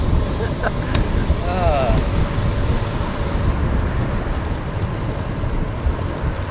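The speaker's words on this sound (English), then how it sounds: "It does feel pretty dang windy." Steady broadband wind rushes and buffets a microphone during a bike ride along a running path, loud and continuous, with a brief faint tonal chirp early on.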